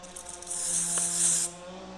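A short burst of aerosol disc brake cleaner sprayed onto bicycle brake pads hisses for about a second, close and steady, then cuts off over a faint background hum.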